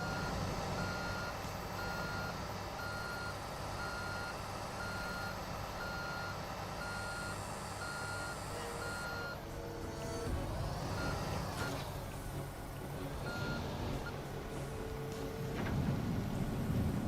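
Steady, evenly spaced reversing beeps from a dump truck in the Construction Simulator 2 video game, sounding over a low diesel engine rumble that grows rougher as the truck maneuvers.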